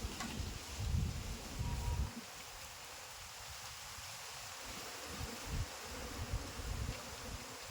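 Apis cerana honeybees, an aggressive colony being moved to a new hive, fly around in a steady, faint buzzing drone under low rustling and occasional soft bumps, with no talking.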